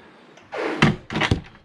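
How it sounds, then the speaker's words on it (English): A cabin door on a Galeon 400 flybridge yacht swings shut with a soft whoosh and lands in a couple of close, dull thunks and a latch knock, heard alone. "Actually, if I just close this door"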